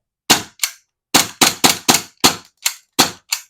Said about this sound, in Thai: ดูซิว่าจะยิงจนแก๊สหมดได้ไหม โอ้ยิงจนลูกหมดนะครับแก๊สยังไม่หมดเลย